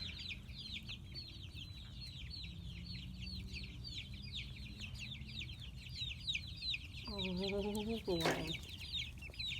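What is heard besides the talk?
free range chickens clucking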